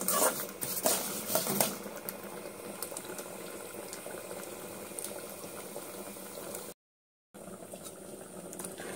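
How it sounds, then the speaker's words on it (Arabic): Vermicelli fries in a spoon of ghee and a spoon of oil, a close, bubbling sizzle with clinks of a utensil against the pan at the start and a brief drop to silence near the end. "حطينا معلقة سمنة ومعلقة زيت، وحطينا الشعرية وهنحمرها بقى كده"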